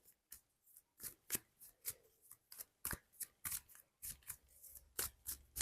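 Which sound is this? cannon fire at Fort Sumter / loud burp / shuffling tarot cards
shuffling tarot cards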